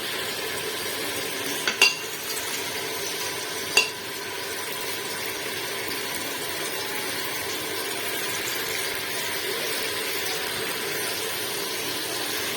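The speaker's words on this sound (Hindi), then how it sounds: "अब हम इनको थोड़ी सी देर और भी भूनेंगे" Tomato masala with cumin, garam masala and turmeric stir-frying in a pan for a dhaba-style aloo gobi curry, a steady close sizzle with a couple of sharp spoon scrapes early on.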